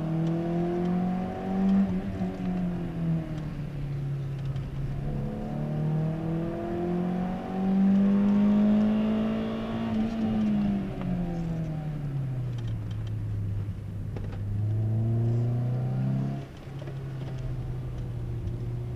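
A Peugeot 206 GTI engine revving up and down repeatedly, the pitch rising and falling in long sweeps at close range, heard alone without talk.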